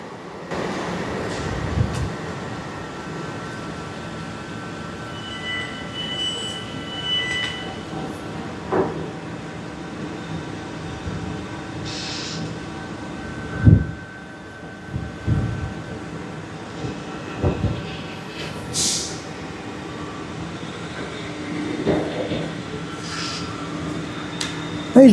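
A train moves through Basingstoke railway station, a busy junction, with low rumble, rail clatter and scattered clanks and squeals at moderate distance, with intermittent voices over it.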